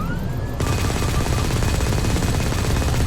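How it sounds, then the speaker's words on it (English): Gunfire in the video game Firefall starts after a short pause and continues as a dense, loud, unbroken wash of shots. "you can shoot through the tornado if you're at the right angle"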